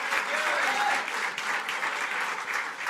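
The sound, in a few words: congregation applauding the deacon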